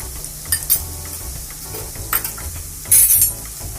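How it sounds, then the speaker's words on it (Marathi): Red chili powder and onion-coconut masala sizzling in hot oil for Satara-style misal, with a low steady sizzle punctuated by several sharp spoon scrapes and clinks against the pan. "आता तेलामध्येच मी लाल तिखट टाकणार आहे."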